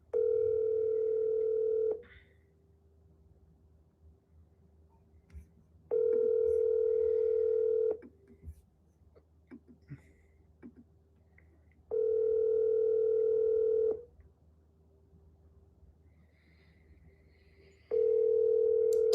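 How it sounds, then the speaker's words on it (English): Ringback tone on an outgoing phone call to a lender, with four long two-second rings separated by roughly four seconds of quiet, clear and steady over a faint background hum. "let me call my lender and just see where we're at"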